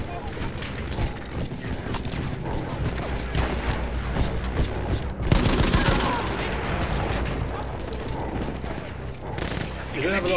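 A mounted machine gun previously manned by Austro-Hungarian troops fires in sustained bursts in a World War I game, rapid dense rattling under battle noise, mechanical clatter and a narrating voice.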